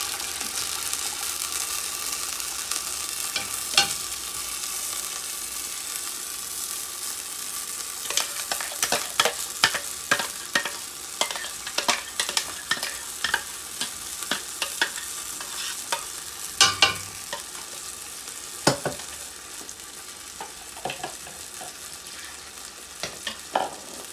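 Freshly ground spices cook with chicken in a pan for a chicken and potato curry, giving a steady quiet sizzle with scattered scraping clicks of stirring.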